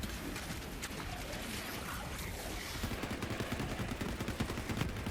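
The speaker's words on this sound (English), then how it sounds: "Oh, I like this SMG though" Rapid SMG gunfire from the Borderlands 3 shooter, a dense continuous stream of shots at a steady loud level throughout, sharpening into distinct bursts in the second half.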